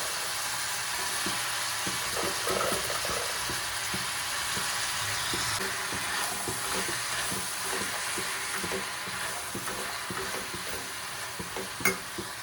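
Cluster beans (gorikayi) sizzle and crackle in a hot pan while being stirred, a steady frying hiss broken by scraping stirs and little pops, close and moderately loud.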